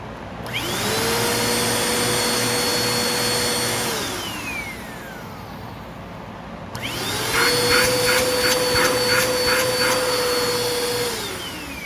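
A Bissell PowerForce Compact Turbo upright vacuum cleaner, just fitted with a replacement cord, whines up, runs steadily for a few seconds and winds down, then starts again louder and rougher with a pulsing rattle.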